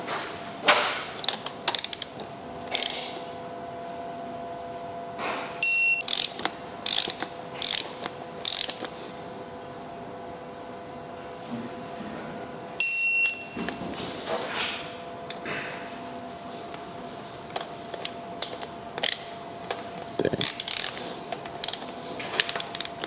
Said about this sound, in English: We're gonna tighten the 4 corners, 1, 2, 3, 4, to 10 Newton meters or 7 foot-pounds of torque.